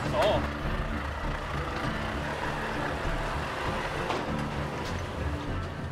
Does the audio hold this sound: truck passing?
yes